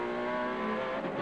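A 1991 Holden Commodore VN race car rounds the final left-hander onto the front straight, its engine droning loud and close from onboard in a sustained, slightly rising tone with no voices.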